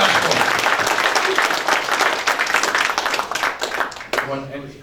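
Audience at a political fundraiser in Nepean applauds steadily, a dense wash of clapping that fades out toward the end as a voice resumes.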